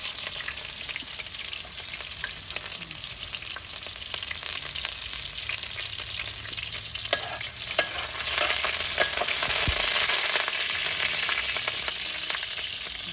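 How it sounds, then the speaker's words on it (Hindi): Onions hit hot oil on an outdoor stove and fry with a dense, steady sizzle that swells louder partway through, with occasional stirring knocks, close and continuous. "पहले तो अभी प्याज चाहिए। बिस्मिल्लाह, तेल गरम हो गया।"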